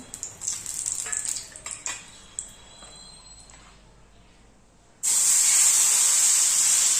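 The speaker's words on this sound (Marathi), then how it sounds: "तवा छान गरम झाल्यावर आता थोडंसे ना तेल टाकून घ्यायचं असं" A few soft clinks and faint sizzling give way to a loud, steady hiss of oil poured onto a hot griddle, continuing to the end.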